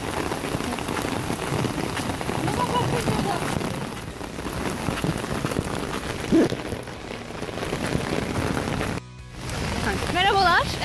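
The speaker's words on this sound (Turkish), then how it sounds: "Yağmur yağıyor." Steady rain patters on surfaces outdoors in Vienna, a dense continuous hiss with occasional brief knocks and a short gap near the end, while voices speak over it.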